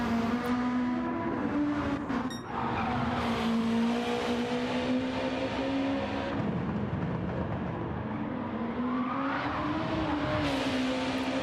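A Honda NSX race car engine roars in a touring car racing video game, revving up and down through several swells and drops with a brief tire-like screech early on, loud and continuous.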